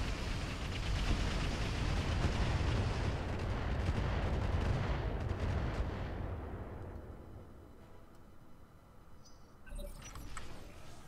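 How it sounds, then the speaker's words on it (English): Incoming missiles explode in a mech combat game, a dense roar of overlapping blasts and rumbling that fades over several seconds, followed by a quieter thump and clatter near the end. "Yeah, here comes the missiles."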